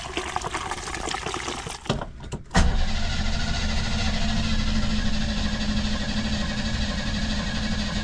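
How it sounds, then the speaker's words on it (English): A Jeep engine cranks briefly and then catches, settling into a steady, loud idle that runs on without a break. "Gotta crank it to get that gas up there. And once the gas gets up there, it starts right up."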